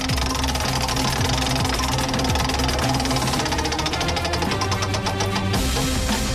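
A large prize wheel is spun on the stage of a candidates' debate, giving a loud, continuous rattle of rapid clicks that gradually spread out as it slows toward the end.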